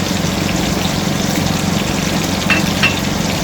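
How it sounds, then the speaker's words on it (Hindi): Ginger-garlic paste frying with spices in hot oil for a black chickpea pulao, a steady close sizzle throughout with a couple of faint stirring scrapes near the end. "सारे मसाले अच्छे से हमने फ्राई करने और इनको अच्छे से हमने मिक्स करना है।"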